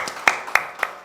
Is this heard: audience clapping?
yes